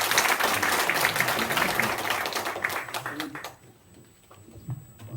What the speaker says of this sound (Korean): 다시 한번 우리 정희철 목사님 박수 한번 쳐주시기 바랍니다